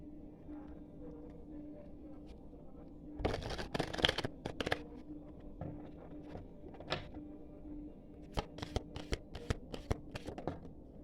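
Tarot cards being shuffled in bursts: a loud riffling flurry around the fourth second, scattered single snaps, then a quick run of crisp card flicks near the end, over a faint steady hum.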